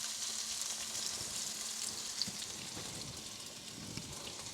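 A large onion fries in a pan over raised heat, giving a steady, soft sizzle with faint crackles and occasional small pops, no voices.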